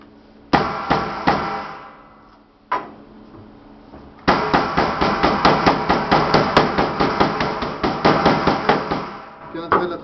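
Firm puff pastry dough (détrempe) struck with a rolling pin on the corner of a kitchen worktop, giving a few isolated thumps followed by a long, steady run of repeated beating knocks, close and fairly loud with no talk.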